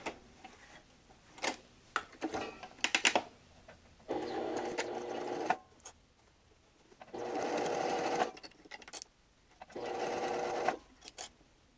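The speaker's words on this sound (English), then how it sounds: "you're just gonna stitch on the very edge to stitch up that hole" A sewing machine stitches along the very edge of a fabric bowl cover to close a hole, running in three steady bursts of a few seconds each, separated by quieter handling noises.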